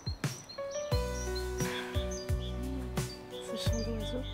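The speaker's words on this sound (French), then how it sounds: "Ce chant d'oiseau." Birds chirp and tweet outdoors during breakfast outside, bright short calls repeating near and far, with occasional low thumps mixed in.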